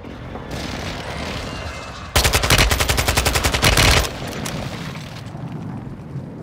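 Warzone 2.0 air strike gunfire tears through in a loud, rapid burst of heavy automatic fire lasting about two seconds, with quieter battlefield rumble before and after.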